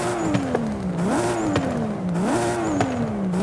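Modded car engine and exhaust in the Forza Horizon 5 racing game, revving repeatedly through rising and falling pulls with a steady rhythmic whine, loud and close, no talking.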